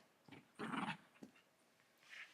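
A playful pet dog gives a few short whimpers and yips close by, one louder burst in the middle and a faint higher whine at the end, with no voices over it.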